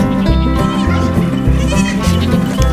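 Several goats on a homestead farm bleat repeatedly at close range, loud overlapping calls in a busy chorus with barely a pause between them.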